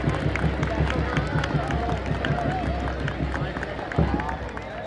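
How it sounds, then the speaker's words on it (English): Crowd applause for the race winners at an outdoor school sports meet, a dense, steady wash of clapping and crowd noise that keeps up evenly with no pause. "A big round of applause to them."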